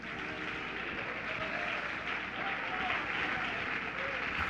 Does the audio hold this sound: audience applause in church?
yes